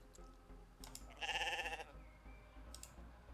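A sheep bleats once, a short wavering call in the online horse-riding game Star Stable Online, heard close and clear over quiet game ambience with faint clicks around it.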